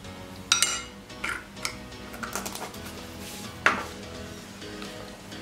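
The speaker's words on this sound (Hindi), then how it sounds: "अब इसको अच्छे से मिक्स कर लेंगे।" A spoon mixes tea cake batter with baking powder in a bowl, giving irregular clinks and taps against the bowl over a soft scraping background, close and fairly quiet.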